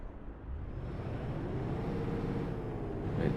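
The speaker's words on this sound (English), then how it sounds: "So let's start the engine." A truck engine in Euro Truck Simulator 2 starts and rumbles low and steady, its pitch and loudness rising gradually as it revs, with faint background hum.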